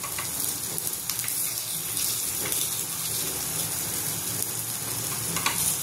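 Mixed-lentil appe frying in an appe pan over a low gas flame, a soft continuous sizzle with faint clicks of turning, no one speaking.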